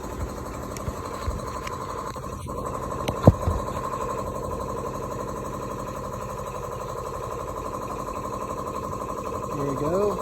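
An air compressor runs steadily with a loud, constant mechanical hum and drone throughout, joined by a brief knock near the middle and a slight rise in pitch at the end.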